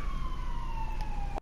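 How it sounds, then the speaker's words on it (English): Police sirens wailing outside, a faint, distant, steady tone that runs unbroken and then cuts off abruptly. "That's a fair amount of sirens."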